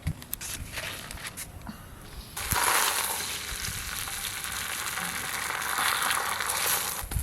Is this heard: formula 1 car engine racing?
no